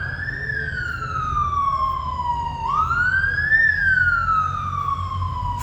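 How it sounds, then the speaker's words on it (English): A loud wailing siren from police motorcycles sweeps down and up in pitch, close by with a low engine rumble underneath; no voices. "Why are they sounding their horns when they don't need to?"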